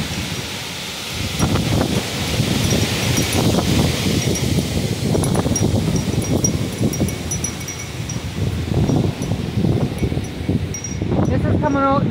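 Steady roaring wind of a thunderstorm rushes through trees outdoors, loud and continuous, with leaves rustling and a voice talking underneath.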